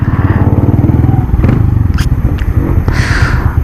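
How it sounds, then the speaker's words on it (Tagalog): An RS 125 motorcycle engine idles close by with a fast, even pulsing rumble, loud and continuous, while some clatter and faint talk occur over it. "Umaandar naman talaga yung makina niya."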